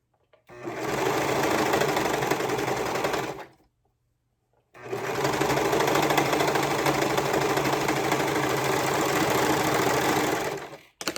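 A serger sewing machine stitches fabric with its cutting knife disengaged, running in a steady, loud, fast whir for about three seconds, pausing briefly, then whirring continuously again for roughly six seconds.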